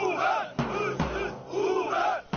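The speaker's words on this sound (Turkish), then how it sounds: "İki grup adliyeden yine sloganlar eşliğinde ayrıldı" Protesters chant slogans outside a courthouse during a trial, two rival groups of Uber drivers and taxi drivers, loud rhythmic crowd shouting in repeated phrases with brief pauses between bursts.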